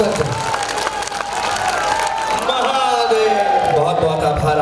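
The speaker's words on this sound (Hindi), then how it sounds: "अपने दोनों हाथों को उठाएं और जोरदार तालियों में तब्दील करके मुझे अनुमति दें" A large crowd at a poetry event in Banaras applauds and cheers loudly and continuously, with whistles and shouts rising over the clapping.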